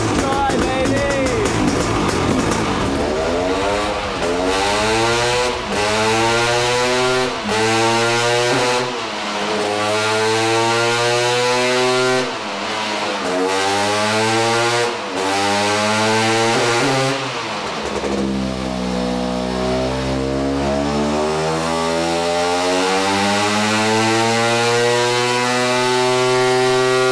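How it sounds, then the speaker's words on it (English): A Yamaha YZ500 big-bore two-stroke dirt bike engine is started and run on a dyno, sputtering through short bursts, then revving repeatedly up and down in loud, rising and falling blats before settling into a lower, steadier run. "about starting big bore 2-strokes on this dyno"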